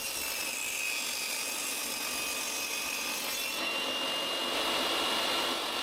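A table saw rips through plywood pieces stood on edge against the fence, a steady, loud, continuous whine and rasp holding level throughout with a slight rise near the end, no voices.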